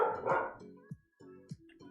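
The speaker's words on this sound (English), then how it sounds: "I hear you over there, dog." A dog barks a few sharp times at a distance in an indoor room, short yips spaced out with quiet gaps between them.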